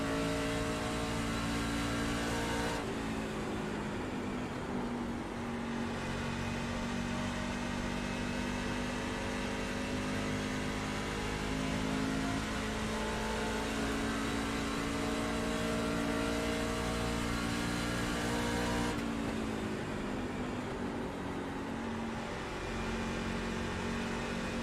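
Race car engines in a NARC dirt racing video game drone steadily and loudly throughout, a dense buzzing roar with shifting pitch as the cars run around the track, with no speech over it.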